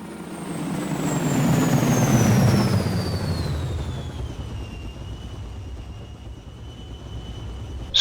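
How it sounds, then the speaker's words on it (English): A landing vehicle descends through the atmosphere in the sci-fi strategy game Ground Control. It makes a broad roaring rush that swells and then eases, with a high whine sliding steadily downward, and no voices are heard. "New drop zone. Landing vehicle entering atmosphere."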